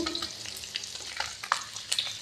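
Small puti fish frying in a pan, giving a close, continuous sizzle broken by light crackles and a few sharp spatters.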